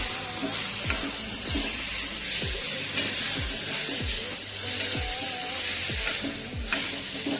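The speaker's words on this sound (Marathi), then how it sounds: "शिमला मिरची आणि कट केलेले टमाटे टाकून घेऊया। सर्व एकजीव करून घेऊया।" Capsicum and chopped tomatoes fry in a pan for momos, a loud continuous sizzle with regular scraping strokes of a spoon stirring roughly every half second.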